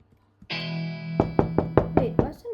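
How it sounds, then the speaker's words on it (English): A run of six sharp knocks, roughly evenly spaced and growing more insistent, sounds close by over a sustained steady tone, with a short voice-like sound trailing after the last knock. "Wait, what's the knocking sound?"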